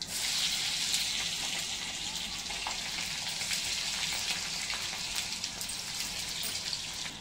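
Cumin seeds and asafoetida tempering in hot oil for a green moong dal sabzi give a steady, dense sizzle with fine crackling, close and continuous throughout, with no voices.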